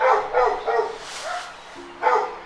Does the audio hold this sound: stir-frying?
no